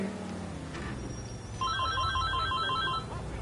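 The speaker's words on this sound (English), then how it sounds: "it's not my phone, it's a house phone." A house phone in GTA 4 rings with bright repeating electronic trills in quick bursts, loud and close over a low game rumble, with no talk.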